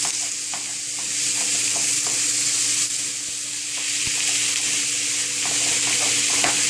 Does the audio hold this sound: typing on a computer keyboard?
no